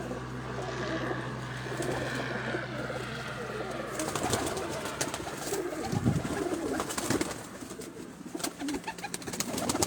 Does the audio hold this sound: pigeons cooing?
yes